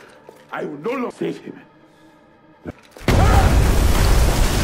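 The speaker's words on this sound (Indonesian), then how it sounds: "Dan ledakan terjadi." A voice talks briefly, then a sudden loud explosion in a war film erupts into a sustained, roaring rumble that fills the rest of the clip.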